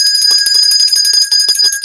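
Bell sound effect, a bright sustained ringing with steady high overtones, repeatedly struck in quick succession, loud and close with no talk over it.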